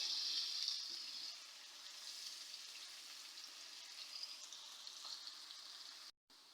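Onion cooking in a pan for chicken macaroni, a faint, even sizzle that fades slightly after the first second and runs steadily before a brief cut near the end.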